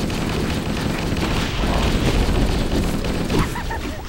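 Assault rifle fire in the video game Halo, a dense, continuous rattle of rapid shots filling the whole moment at close range.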